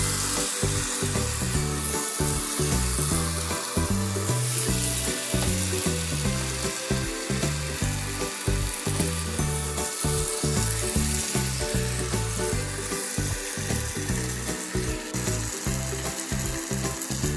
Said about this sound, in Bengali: মশলার সাথে চিকেনগুলো কষিয়ে নিতে হবে।